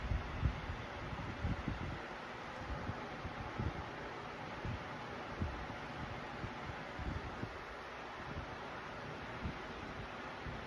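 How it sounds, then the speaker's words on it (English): Lasko oscillating large-room pedestal fan on setting 3 produces a continuous, faint airy hiss with low, irregular wind buffeting against the microphone, steady throughout without voices. "So this is the sound of it on number 3."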